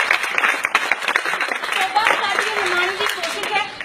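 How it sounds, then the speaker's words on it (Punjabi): Audience applause at a street play, a dense patter of many hands clapping steadily for about four seconds, mixed with a voice talking over it. "ਤਾਲੀਆਂ ਵੀ ਤਾਲੀਆਂ ਵਾਹ ਵਾਹ"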